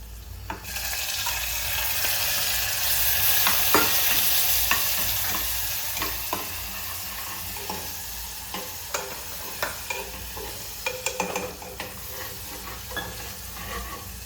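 Garlic chili paste hits hot oil with cumin seeds and asafoetida, a loud sizzling burst that settles into steady frying, punctuated by repeated scrapes and taps of a spoon stirring the pan, with no voices.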